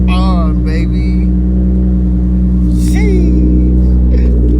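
A car idles steadily just after an ECU tune, a low, continuous engine drone close by on a cold day, with someone talking excitedly over it.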